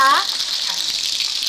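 Heavy rain used as a sound effect in a historical drama narration, a dense steady hiss of downpour that follows a brief tonal sound at the start, fairly loud and continuous.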